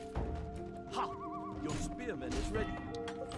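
A horse whinny rises from a Parthian horse archer unit in the strategy game Empire Earth III, mixed with game music, clattering battle effects and someone talking over it.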